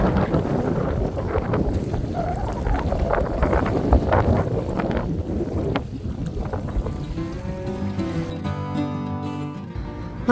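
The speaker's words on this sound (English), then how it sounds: "It got really windy again" Strong wind gusts buffet the microphone at Silver Lake on the June Lake Loop in California, a loud, rough roar over lapping water that eases near the end as a faint tonal hum comes in.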